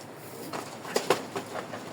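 Racer pigeon chicks make a few soft, close coos and short throaty calls, spaced unevenly over a quiet background.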